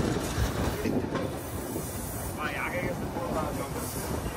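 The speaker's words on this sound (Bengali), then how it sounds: "আর এই যে আমাদের ট্রেন চলে যাচ্ছে বাম দিক দিয়ে, এটা হচ্ছে বেনাপোলের লাইন।" A train runs on the Benapole line in Bangladesh, heard from aboard the Rupashi Bangla Express, a loud, steady rolling rumble with hiss and clattering wheels, plus a brief squealing tone midway, and a voice may be faintly present.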